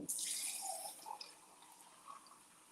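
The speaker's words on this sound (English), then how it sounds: "let's put some water in here" Water poured into a container to rehydrate dried potatoes for hash browns, a brief splashing burst at the start that fades into scattered faint drips.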